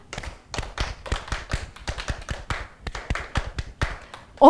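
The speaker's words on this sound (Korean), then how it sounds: "박수를 친 이유는 중요해서 집중을 해보고자 잠깐 박수를 좀 쳐봤습니다" Close, dry hand claps from an instructor leading a lifelong-learning class, struck in quick rhythmic groups of building length, about twenty sharp claps in all, with a voice cutting in right at the end.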